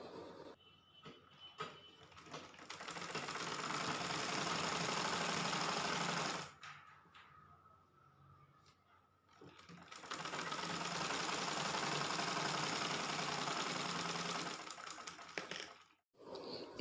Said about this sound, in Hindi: हमने जो निशान लगाए थे उसी पे इसको स्टिच कर लेंगे